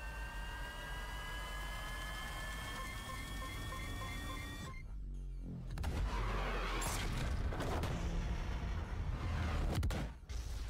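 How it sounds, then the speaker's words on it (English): In a Guardians of the Galaxy video game, a steady droning engine-like roar with a whining tone aboard a ship gives way to a sudden burst of loud, crackling, rumbling explosions, with further booms near the end. "Okay, there's the explosions."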